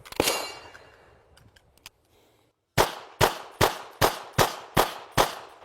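Handgun fired at a shooting range: one shot, a pause with faint clinks, then a rapid, evenly spaced string of seven loud, close shots with short echoing decays.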